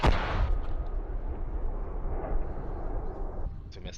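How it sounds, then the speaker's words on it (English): Explosion of a power pole being targeted in modern-day Europe, a loud booming burst at the start followed by a sustained rumbling roar, with voices talking faintly beneath. "There's another explosion."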